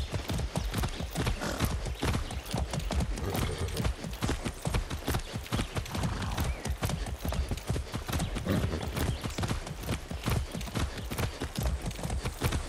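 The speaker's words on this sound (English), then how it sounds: "I haven't ridden a horse since basic training." Horse hooves clip-clop in a fast, steady rhythm while riding in the video game Far Cry 6, the loud hoofbeats continuous and close throughout.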